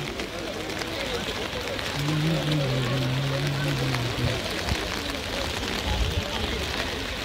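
Rain falling at Khajjiar in Himachal Pradesh, a steady hiss of drops on surfaces throughout, with people talking and a low engine-like hum briefly in the middle.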